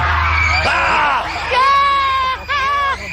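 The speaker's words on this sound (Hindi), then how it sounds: "वहाँ पे क्या हाई पिच की चीख है, चिमगादड़े भाग जाएंगे चीख सुन के।" Loud, high-pitched screaming from a contestant on the Takeshi's Castle game show, with sustained shrill cries, over a background of excited crowd voices and yelling.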